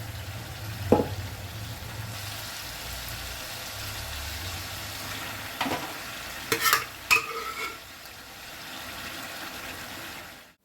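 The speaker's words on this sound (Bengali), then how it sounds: "এবারে আমি সব তরকার ডালটা দিয়ে দিয়েছি একটু ভালো করে মিশিয়ে নেব ভালো করে নেড়ে নিয়েছি" Mutton keema and tarka dal being stirred and sautéed in a pan, a steady sizzle running throughout with a few scraping spoon strokes, close, with no talking.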